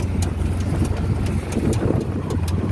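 An auto rickshaw engine drones at a steady idle-like pace, a continuous low rumble with faint rattles and a few small clicks on top, close and constant throughout.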